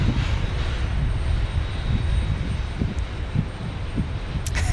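Low rumbling roar of a Boeing 737-800 jet airliner at Phoenix Sky Harbor airport, a steady distant engine drone with airy hiss over it, heard alone without talk.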